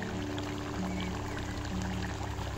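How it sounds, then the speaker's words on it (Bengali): A soft, steady pouring hiss as ghee is drizzled over a jackfruit and prawn curry, close and continuous for a couple of seconds under low kitchen hum. "দিয়ে দিচ্ছি উপর থেকে একটু ঘি"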